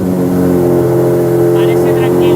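A Lamborghini SVJ idles with its exhaust valves closed, a loud, steady, fairly subdued rumble with a smooth, even tone throughout.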